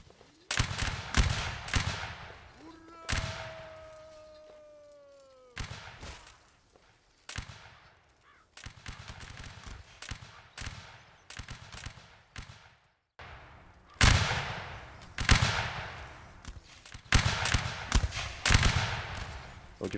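Musket volleys and scattered shots in a Napoleonic Wars line battle game, sharp loud cracks arriving in rapid clusters with brief gaps between, one drawn-out whistling tone early on, no talk.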